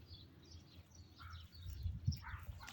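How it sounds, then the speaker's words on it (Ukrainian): Faint, scattered chirps of house sparrows over a low background hum, growing a bit busier toward the end. "Слухайте, тихо, тепло. Горобці співають."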